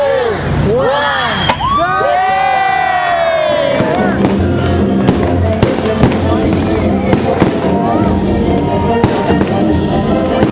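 Fireworks whistle upward and burst with booming pops over a cheering, shouting crowd at a holiday tree lighting in front of City Hall, Missouri City, Texas, the bangs continuing under loud festive noise.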